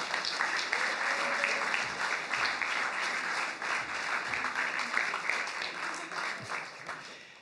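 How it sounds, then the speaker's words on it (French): An audience at a French festival awards event applauds all the submitted projects, sustained dense clapping filling the room from start to finish before tapering slightly at the end. "je vous laisse applaudir tous les projets, tous ceux qui ont déposé des projets."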